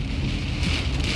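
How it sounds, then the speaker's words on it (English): Steady rain pouring down, a dense continuous hiss of drops striking surfaces close by, loud and unbroken with no voices. "The rain is coming down, right?"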